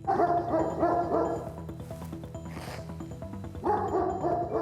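A lone dog barks at a country dacha with a tidy lawn, gazebo and garage in Biliaivka, Ukraine, giving fairly close repeated barks in two bursts with a quieter stretch between them.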